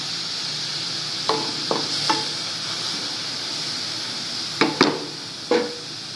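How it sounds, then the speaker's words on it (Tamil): Beetroot frying in ghee in a pan, a steady soft sizzle under several sharp stirring clacks of a spoon against the pan, heard close with no talk. "நெய்யிலே விதங்கி வச்சு பாருங்கள்."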